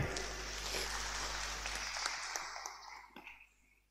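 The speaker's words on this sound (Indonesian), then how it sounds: "Mari kita berikan tepuk tangan yang meriah." Audience applause in a hall at a church history presentation, a dense wash of clapping that holds steady, then thins and fades toward the end.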